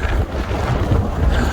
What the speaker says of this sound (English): the wind's up, so I'm gonna get on down below this tree line here